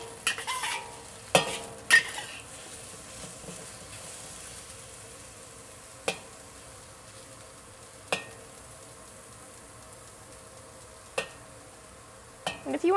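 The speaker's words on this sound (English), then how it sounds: "So I'll keep stirring it occasionally." Chinese eggplant fries in oil in a wok with a steady low sizzle, broken by a handful of sharp scrapes and clicks of a spatula stirring the pieces at irregular intervals.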